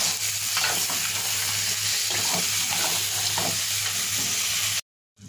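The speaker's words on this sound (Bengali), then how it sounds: "এবার চিকেনের গলা মাথাগুলো দিয়ে দিলাম, এবার ভালোভাবে কষিয়ে নেব।" Chicken necks and heads frying with spices in a pan, a steady close sizzle broken by scraping stirs, with a constant low hum underneath; it stops abruptly near the end.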